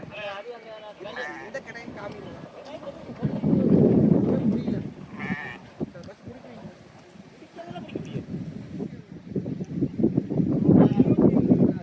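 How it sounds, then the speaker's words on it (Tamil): Goats bleat in short wavering calls close by, mixed with people talking over them. "ஆடு பாருங்க பக்கத்தில் வந்துச்சு"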